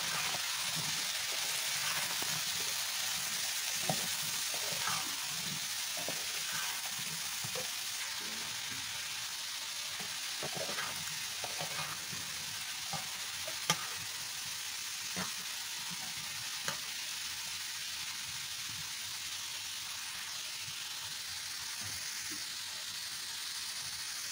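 Vegetables (potol and potato) frying in a pan while being stirred with salt, turmeric and chilli powder, a steady close sizzle broken by repeated scraping and clinking stir strokes, no voices.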